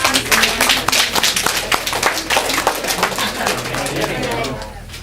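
A small audience at an educational community talk breaks into applause, brisk overlapping hand claps close to the microphone that build quickly and then taper off, with a murmur of voices underneath.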